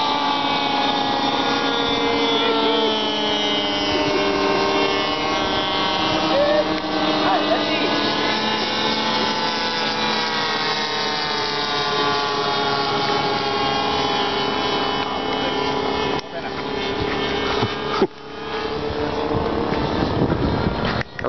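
A boat engine drones steadily and loudly close by at a water-based event at Ijok, holding a constant tone under wind buffeting on the microphone, with a couple of brief dips near the end; someone talks over it.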